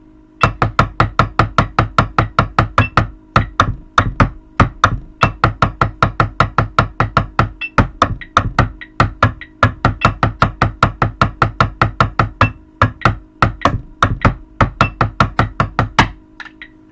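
High school drumline drums playing the check pattern, a long steady train of crisp, evenly spaced snare-like hits with occasional short breaks, close and loud for about sixteen seconds.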